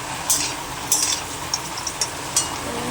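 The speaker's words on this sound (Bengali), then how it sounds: "মাংসটা আমি এখন দিয়ে দিয়েছি" Chicken meat frying with spices in a pan, a steady sizzle broken by several sharp scraping strokes of a spatula or spoon, close and moderately loud, with no talking.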